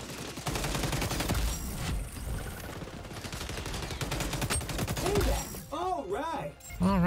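An ACR assault rifle fires in rapid automatic bursts in the shooter game xDefiant, dense and loud, with game music and effects mixed in and a short pause partway through.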